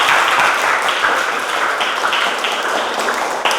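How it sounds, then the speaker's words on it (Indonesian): Steady applause fills the room for students in a physics education class after Farhan's group finishes its discussion presentation, a continuous wash of clapping with no speech. "Beri tepuk tangan untuk kelompoknya Farhan"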